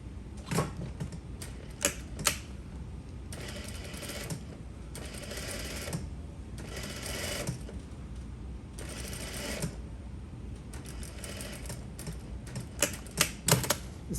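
Sewing machine understitching a zipper facing, running in several steady bursts of stitching separated by short pauses, moderately loud and close with no talking.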